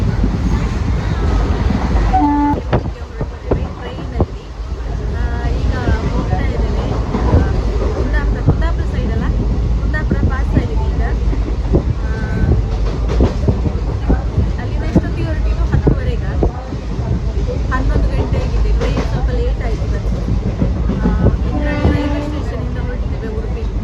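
Train rolling along rails toward Murudeshwar, a continuous loud rumble with rattling wheel clatter heard from inside the carriage, while voices talk faintly in the background.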